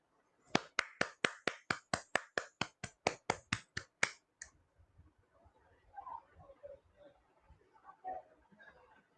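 Roughly fifteen sharp, evenly paced claps from a group ring out together to close a meditation session, then give way to faint scattered murmuring and soft room noise.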